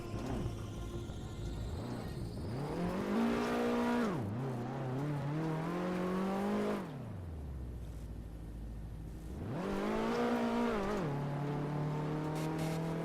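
Car engine in the Garry's Mod video game on a rainy driving map, revving up and down in repeated sweeps with tire skidding, loud and close, no voices.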